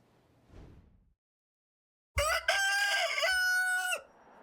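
A rooster crows loudly and close by inside a feed store, one drawn-out cock-a-doodle-doo with a strained, harmonic call, preceded by a brief faint rustle and followed by low room noise.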